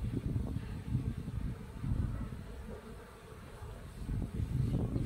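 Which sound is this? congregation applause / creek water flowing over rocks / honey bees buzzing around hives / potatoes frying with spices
honey bees buzzing around hives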